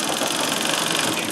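Singer 24-52 treadle sewing machine stitching at high speed, a dense, steady, rapid mechanical whirring and clatter that stays loud and close for the whole moment.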